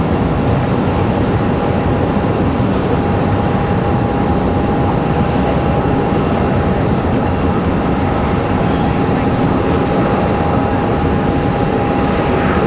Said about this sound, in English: Let's have our CRJ arrival.